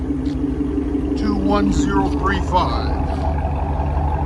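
A RAM 1500 with the 5.7L Hemi and a Corsa cat-back exhaust idles with a deep, even rumble that runs steadily beneath someone talking close by.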